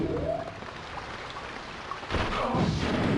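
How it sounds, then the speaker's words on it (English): Rain in the futuristic shooter video game Daikatana, a steady hiss of falling rain in a dreary outdoor level, growing slightly louder and fuller partway through, with no voices. "So, you start off in this rainy place"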